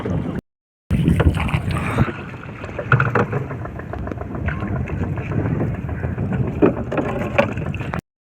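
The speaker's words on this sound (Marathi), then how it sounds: "हे एकदम म्हणजे एकदम वारा सुटले आज." Strong wind buffets a small boat out on the water during mud crab hunting, a rough, roaring rush with gusty swells and rumbling mic buffeting after a brief gap of silence, and nobody talks.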